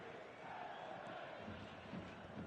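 A football stadium crowd on match day roars in a steady, dense wash of voices, rising slightly toward the end, with distant chanting blended into the broad noise.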